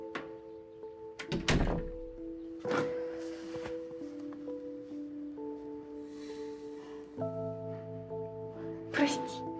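A door in a home shuts with a couple of heavy thumps and a clunk, set against steady tonal background music with a few more soft knocks later.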